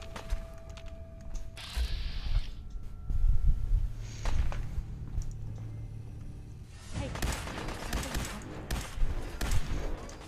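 Laser rifle shots and other combat noise in Fallout 4 crackle in scattered bursts over game ambience, with a denser flurry of firing toward the end.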